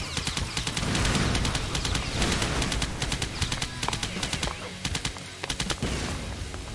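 Gunfire rattles through a Cannon Fodder 3 game session: rapid bursts of automatic shots and scattered single cracks, loud and dense over ongoing game sounds, with the heaviest bursts near the end.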